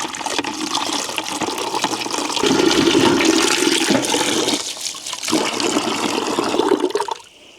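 Water poured into a compost bin in a winter garden, a loud close gushing and splashing that thickens midway, briefly eases, then surges again before cutting off.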